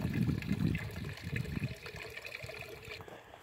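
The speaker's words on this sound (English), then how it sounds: "There you can see my little drippers in action there." Backyard drip irrigation drippers trickle water into a bucket, a close, soft, steady splashing and dribbling that thins out toward the end, with no voices.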